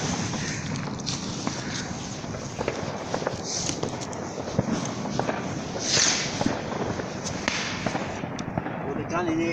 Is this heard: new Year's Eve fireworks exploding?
yes